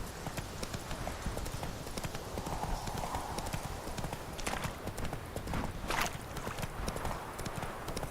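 Steady clip-clop of Geralt's horse Roach trotting along a road in The Witcher 3: Wild Hunt, continuous hoofbeats at an even rhythm over a busy game soundscape, with no voices.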